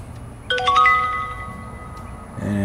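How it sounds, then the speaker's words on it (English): A security camera app notification chimes as a few bright electronic tones that ring out and fade, followed by a second tone near the end, close and clear in a quiet room. "Got a notification. I don't know if you can hear it. I can hear it."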